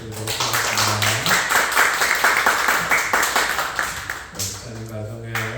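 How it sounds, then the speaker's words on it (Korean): A congregation at a Sabbath church service bursts into welcoming applause, a dense run of hand claps lasting several seconds, with a voice briefly heard before and after. "환영의 박수 한번 쳐드리도록 하겠습니다."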